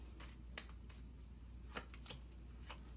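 Tarot cards being shuffled and handled close up, quiet riffling flicks and sharp snaps at an irregular pace, with a soft low hum underneath.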